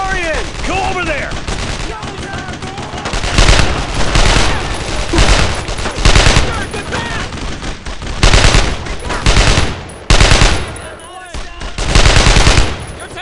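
Machine gun fire in Brothers in Arms: Road to Hill 30 at Carentan, loud rapid bursts repeating at close range amid battle noise, with soldiers shouting over the shooting.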